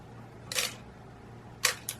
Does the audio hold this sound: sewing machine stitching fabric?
no